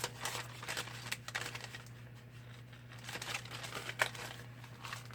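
Crisp, dry papers crinkle and rustle up close in irregular bursts as they are handled and shuffled, with sharper ticks and snaps over a low steady hum.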